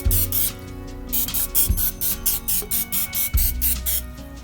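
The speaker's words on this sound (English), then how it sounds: "So butter or spray casserole here" Short hissing bursts of cooking spray onto a casserole dish, around a dozen quick sprays in a rapid rhythm, close up with a couple of light knocks between them.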